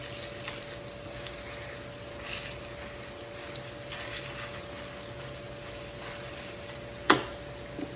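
Crumbled sausage frying in a pan for homemade sausage gravy, a steady low sizzle with soft scraping and stirring, and one sharp clink near the end.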